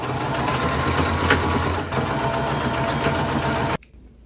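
A sewing machine stitching a row of elastic onto a shirt, a fast steady mechanical whir running loud and close before stopping abruptly near the end.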